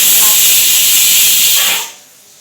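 Steam hisses loudly and steadily from a pot of taro boiling on a kitchen stove, then drops away sharply near the end.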